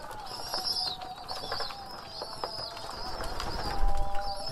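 Homing pigeons coo and chirp softly at close range, with brief bursts of wing flapping scattered through the steady calls.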